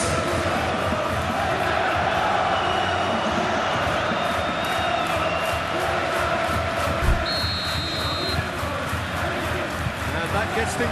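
A capacity stadium crowd at a Liverpool vs Manchester City Premier League football match roars steadily and continuously, with a commentator talking over the dense, distant crowd noise.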